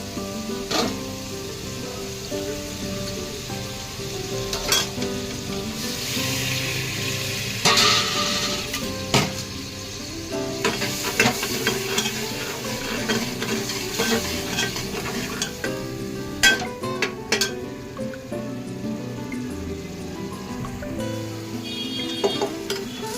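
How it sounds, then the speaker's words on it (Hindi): Masala spices fry and are stirred in a pan before rice is added, with a continuous close sizzle and repeated scraping and clinking of the spoon against the pan, and no voices. "थोड़ा सा मसाला भून के ना इसमें मैं चावल डाल दूंगी।"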